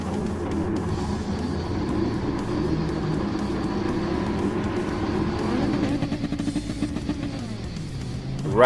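Dodge Viper V10 race car engine in the GT Sport racing game on the Tokyo Expressway East Outer Loop, a steady loud drone held throughout, then shifting pitch near the end as the revs change.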